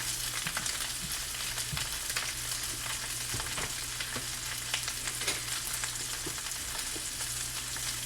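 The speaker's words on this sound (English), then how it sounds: "I hope he's big enough to fry 2 full mackerel" Two whole mackerel sizzle and spit in a big frying pan, a constant close crackle of hot oil with small pops scattered through it and no talking.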